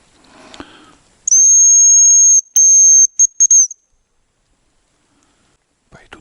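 Two hazel grouse calling in taiga forest, heard as a long thin high whistle followed by a few shorter whistled notes, clear and fairly close, with a soft rustle before and a faint sound at the end.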